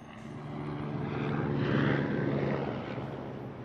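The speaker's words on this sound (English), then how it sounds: "Helicopter." A helicopter drones steadily overhead in an animated film scene, swelling slightly louder in the middle before easing off, with a low rotor rumble and no voices.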